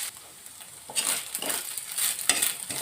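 Macaroni for sopas being stirred and sautéed in a pan, giving a steady sizzle with scraping stirring strokes that swell in bursts, close and moderately loud, with no talking.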